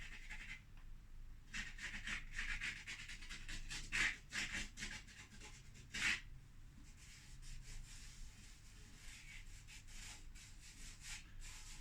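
Charcoal or chalk pastel scrapes across an abrasive drawing surface in repeated dry rubbing strokes, with a couple of sharper, louder scratches, close and alone.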